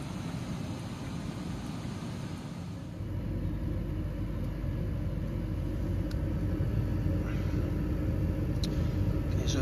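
A home gas furnace with an ignition fault cycles on, a low rumble stepping up in loudness partway through and then holding steady with a few faint clicks.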